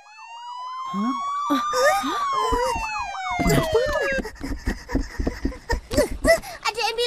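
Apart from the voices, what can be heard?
ambulance siren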